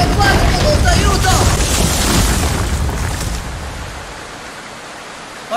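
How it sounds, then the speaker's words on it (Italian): Heavy rain pours indoors inside a house in a Peppa Pig cartoon, a loud dense hiss that gradually fades to a quieter wash. "Ora ti piove dentro casa."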